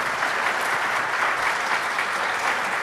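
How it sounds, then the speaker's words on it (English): Dense, steady applause from a large tech conference audience, a continuous wash of clapping at full volume with no voices standing out. "let's give one more applause to all of our speakers for the morning session"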